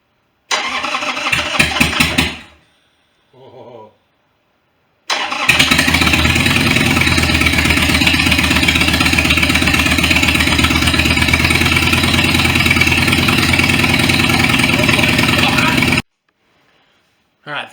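A crashed Harley motorcycle engine cranks briefly, pauses, then fires up and runs at a loud, steady idle for about ten seconds before cutting off, heard close up.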